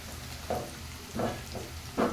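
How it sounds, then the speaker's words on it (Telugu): Onion frying in a pan gives a soft, steady sizzle with three brief louder bursts as the pieces are stirred, close by and without talk. "ఆల్మోస్ట్ ఫ్రై అయిందండి ఆనియన్"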